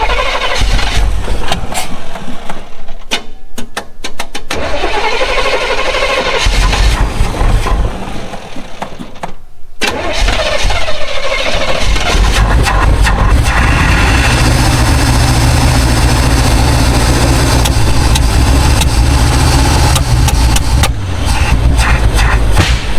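A 1985 Chevrolet K5 Blazer, long abandoned, cranks and fires up, then settles into a loud, steady, rumbling idle that runs close by with no talk over it.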